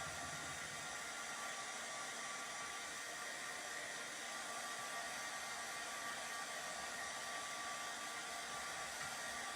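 A hair dryer on its cool setting blows steadily and close by to dry wax on a Mod Podge and chalk-painted wooden cutout, a constant even whoosh with no talking.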